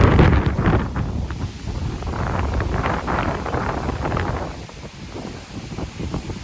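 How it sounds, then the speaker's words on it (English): Wind gusting across an outdoor microphone, a steady broadband rush that swells and eases over several seconds with no talking. "There's the wind."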